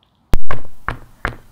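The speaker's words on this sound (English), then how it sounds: "I want to knock on it again." Knocking on a homemade shadow-play box, a sharp close bang followed by two lighter knocks at even spacing, loud and alone without talk.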